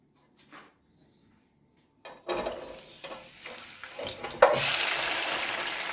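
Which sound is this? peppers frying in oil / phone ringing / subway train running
peppers frying in oil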